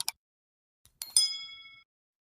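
A bright notification bell dings once after a couple of short clicks, its clear metallic tone ringing out for about half a second before fading into silence.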